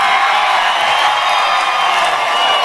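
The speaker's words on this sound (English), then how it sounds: "The crowd is so excited about seeing you guys here" Studio audience at MuchMusic in Toronto cheering and screaming for Stone Temple Pilots, a dense, steady roar of high-pitched voices and whoops held at full loudness throughout.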